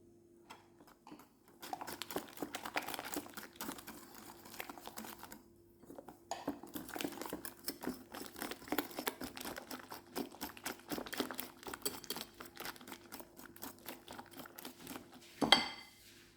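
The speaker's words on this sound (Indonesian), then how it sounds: "sekarang labunya kita masukkan sambil dikocok ya" A whisk clatters steadily against a bowl as pumpkin is beaten into pie batter, with a rapid scraping rhythm, brief pauses and a sharper clank near the end, close and fairly quiet.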